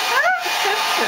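A hair dryer blows loud and close in a steady whooshing hum that lasts about a second, with its pitch wavering slightly.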